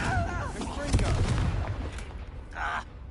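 A Confringo blast spell in the video game Hogwarts Legacy, a heavy booming burst among dense game combat noise and rumble, with a brighter whooshing crackle near the end.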